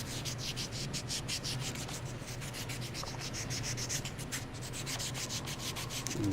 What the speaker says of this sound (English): This is actually wet, dry sandpaper